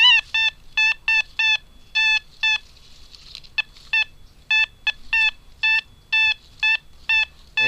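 Metal detector signalling a target with sharp, repeated electronic beeps in short bursts, loud and close against a quiet background.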